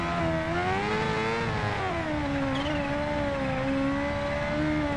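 A loud, sustained engine drone from a supercharged 2015 Kawasaki Ninja H2R in the Ride 2 game, revs swelling and dipping over a few seconds with a high compressor whine above the roar, without talk.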